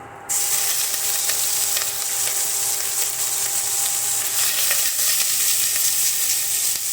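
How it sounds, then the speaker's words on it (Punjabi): Ginger and garlic frying in hot oil with cumin seeds in a pot, giving a continuous crackling sizzle with light stirring scrapes, close and steady throughout. "ਦੋ ਮਿੰਟ ਵਾਸਤੇ ਆਪਾਂ ਇਹ ਦੋਨੋਂ ਚੀਜ਼ਾਂ ਨੂੰ ਭੁੰਨ ਲਈਏ"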